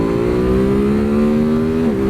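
A 2022 Ducati Supersport S motorcycle pulls hard in second gear from about 40 to 80, its engine note climbing steadily and loudly up close before a brief dip near the end, with no talking.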